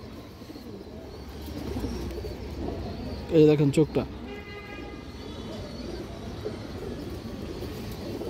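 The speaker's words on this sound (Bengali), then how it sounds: "এই যে দেখেন মাদি কবুতর" A short burst of cooing from a female pigeon at a pigeon farm stands out briefly, close and clear, with someone talking throughout.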